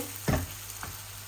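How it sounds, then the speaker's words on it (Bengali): Tilapia pieces fry in oil for a Bangladeshi fish dish while a knife turns them, giving two short scraping clatters over a faint, continuous sizzle. "এগুলারে শুধু নাইফ দিয়া লাড়াচাড়া করবো এই যে এইভাবে"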